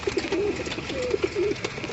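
Hobby flying pigeons give a series of rolling, wavering coos close by, several phrases in quick succession over a faint hiss.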